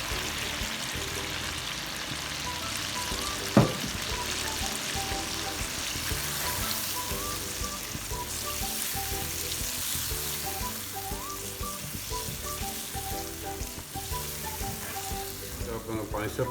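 Green masala paste sizzles as it fries in a chicken karahi, a soft, steady hiss that runs throughout, broken by one sharp knock early on.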